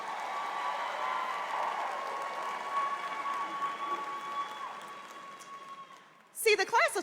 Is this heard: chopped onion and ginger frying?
no